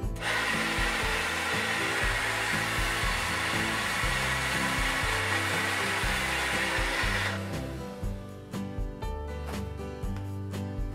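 Hair dryer on high heat with a hot setting blowing steadily through hair during a home salon blowout, a loud continuous roar that drops slightly toward the end, with no talking.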